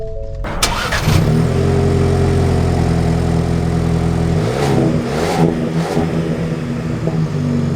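A 2024 Ford Ranger XLT starts up and drives off, with the engine cranking and catching, then a loud, steady rumble that rises with acceleration before settling; close and continuous, no talking.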